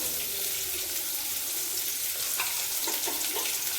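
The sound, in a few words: frying curry leaves and green chillies with fennel powder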